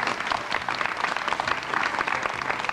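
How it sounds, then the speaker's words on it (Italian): Audience applause for children during an Italian television broadcast, dense steady clapping from a crowd at moderate volume, alone without speech. "a tutti i bambini che ci stanno guardando un bel applauso!"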